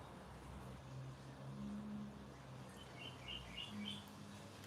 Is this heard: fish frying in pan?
no